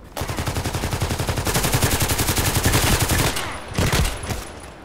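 An APS automatic pistol fires in Contract Wars, a long, loud, rapid burst of close shots followed by a few shorter bursts.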